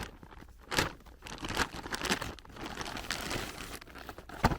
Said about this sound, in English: if I cut through this plastic